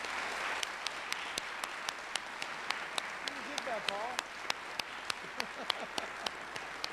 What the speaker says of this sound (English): let's give these gentlemen a big round of applause